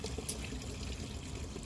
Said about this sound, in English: get the bucket, and literally you pour it in